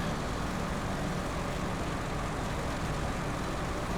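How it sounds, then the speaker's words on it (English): A heavy truck engine in the SnowRunner off-road driving game drones loudly and steadily, a dense, unbroken roar that fills the whole clip with no pauses or changes in level. "So this truck is very loud though"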